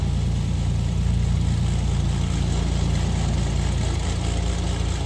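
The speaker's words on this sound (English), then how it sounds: "This is that engine ticking away." A video game's Beechcraft Duke aircraft piston engine idles steadily and alone, a dense, even rumble with a low throb that holds unchanged throughout.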